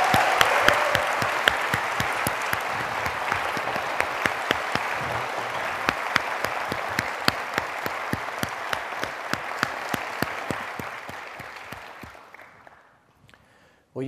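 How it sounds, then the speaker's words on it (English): Long, dense applause from a large audience at a medical school white coat ceremony, steady with sharp individual claps standing out, then tapering off to near silence at the end. "Let's all give them a round of applause."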